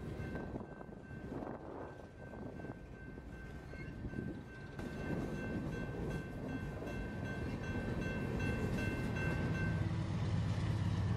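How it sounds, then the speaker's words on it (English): A BNSF freight train hauling cars for a power plant rolls past near Interstate 44 in Missouri, a broad rumbling roar of wheels and cars that builds steadily louder, with a faint sustained tonal whine above it and no talk. "The train ducks under Interstate 44 and heads off into the sunset."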